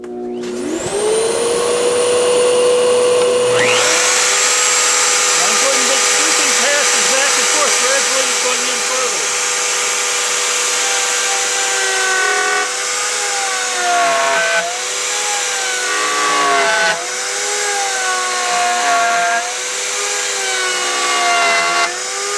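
A router cuts a mortise in wood on a PantoRouter with a tenon jig while dust collection runs, a loud sustained motor whine that starts abruptly after a few seconds and holds steady with slight shifts in pitch as the cut progresses.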